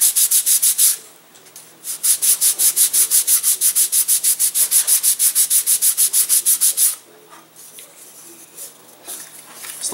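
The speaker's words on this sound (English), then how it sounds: "so we may have to sand that out a little bit. We'll go ahead and do that" Close, scratchy sanding on the fuselage slot of a rocket-boosted glider, with a short burst, a pause, then a long run of quick, even back-and-forth strokes before it stops.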